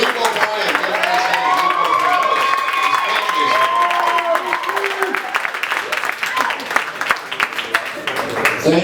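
Comedy club audience at an amateur night applauding and cheering for a comic taking the stage, dense steady clapping with whoops and shouts throughout, fairly close and loud.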